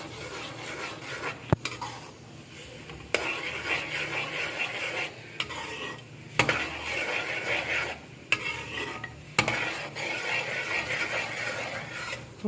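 Jaggery rice cooking in a pot, stirred continuously with a soft bubbling sizzle and sharp clacks of the spoon hitting the pot every couple of seconds, close and steady throughout.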